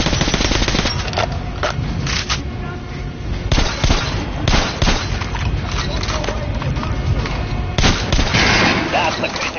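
Rapid gunfire hits an armored target in the video game Metro Redux, with loud bursts and single shots cracking repeatedly over a busy, continuous game soundscape.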